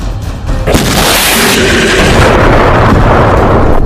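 Russian aerial bomb exploding in Ukraine, a loud, close blast that erupts into a broad roaring rumble and keeps booming and crackling for several seconds.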